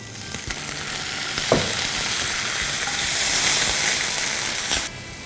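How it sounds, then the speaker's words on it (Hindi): Chopped onions and green chili, being browned with a dash of water, sizzle steadily in a pan while being stirred. The loud, continuous frying hiss is broken by occasional scrapes of the spoon. "अब इसे हम भूनेंगे जब तक कि अनियंस कंप्लीटली ब्राउन नहीं हो जाते।"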